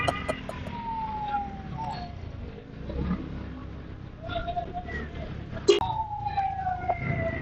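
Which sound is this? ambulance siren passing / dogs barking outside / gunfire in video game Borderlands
ambulance siren passing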